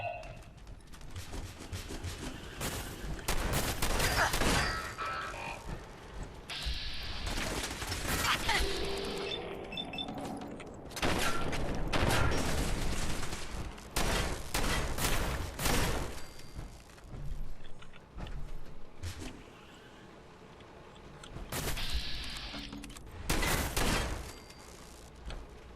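Turret gunfire in the Fallout 4 video game, bursts of rapid mechanical firing with clattering and whirring that come and go across the stretch, loud and dense with short quieter gaps.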